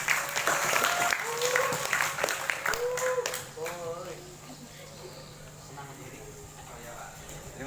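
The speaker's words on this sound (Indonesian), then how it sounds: "Tepuk tangan untuk beliau." An audience at an Islamic high school talk show on democracy applauds a speaker's introduction, clapping mixed with talking voices for a few seconds, then fading to a quieter room with lingering murmurs.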